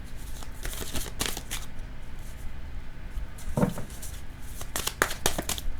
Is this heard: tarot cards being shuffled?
yes